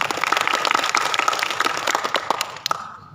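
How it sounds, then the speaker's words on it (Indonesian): Dense, lively audience applause at a rally-style gathering, loud and close, with rapid overlapping claps that thin out and fade near the end. "Tepuk tangan untuk kita semua."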